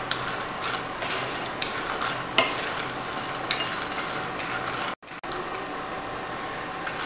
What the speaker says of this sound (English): And mix it all together very well so that masala gets coated